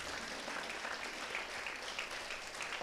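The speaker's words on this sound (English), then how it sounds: "Give a loud applause, please." A school audience at a NEET toppers' event gives sustained, loud applause: many hands clapping in an even, unbroken roar that holds its level throughout.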